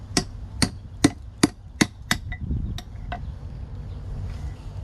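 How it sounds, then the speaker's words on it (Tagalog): A rack and pinion part from a Kia Pride is hammered into place with a socket, giving six sharp metallic strikes in a steady rhythm, then a few lighter taps trailing off, close and loud with no talk. "ibabaon lang natin siya gamit tong socket na to. Ayan, pwede na natin itong pukpukin."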